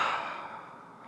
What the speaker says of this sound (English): Breathe, breathe, breathe, and exhale, let it go